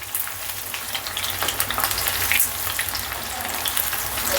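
Chicken pakoda pieces with curry leaves fry in hot oil, giving a steady, close sizzling and crackling that swells slightly midway and continues without talk.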